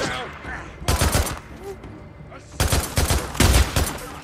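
Shotgun blasts boom in the open-world game Days Gone during a fight with marauders: several heavy, close reports in two bursts, with a player talking in between.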